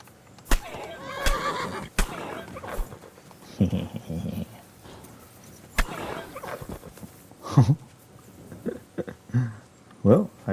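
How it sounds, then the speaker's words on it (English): Horse neighs and whinnies as it is killed in Kingdom Come: Deliverance 2, loud bursts recurring through the clip among other game sounds and thuds. "Well, I just killed that horse."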